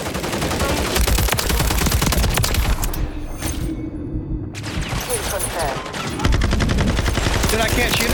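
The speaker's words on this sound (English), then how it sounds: "Everyone's shooting at my guys" Heavy gunfire in Modern Warfare 3: loud, dense automatic bursts overlapping without pause, with a short lull before the shooting resumes at full intensity, and a player talking over the combat.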